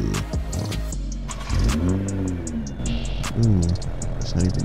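A car engine starts up and revs in a Roblox Jailbreak game, the Striker vehicle rising in pitch through a couple of loud accelerating surges with brief chatter at the start.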